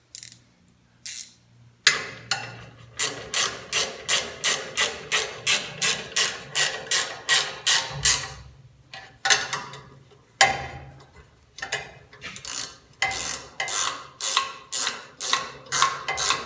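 A ratcheting wrench tightens fittings while a transmission cooler goes into a 1953 pickup, giving rapid, steady clicking strokes up close that come in bursts with short pauses between them and no talk over them.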